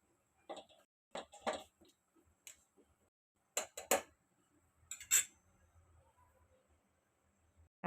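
A spoon scrapes and knocks against a pot while cooked dal is stirred, giving scattered clusters of sharp, close clacks separated by quiet pauses.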